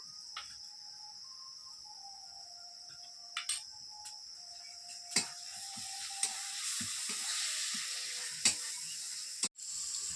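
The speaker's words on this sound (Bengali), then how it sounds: "রসুনটা ভালোভাবে ভাজা হয়ে গেছে" Garlic paste frying in a pan gives a steady sizzle with a faint tonal hum, broken by occasional clicks and scrapes of stirring, with no voices.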